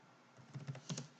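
Quiet computer keyboard typing: a few soft, separate key taps in a short irregular burst after a silent start, close and faint with no talk.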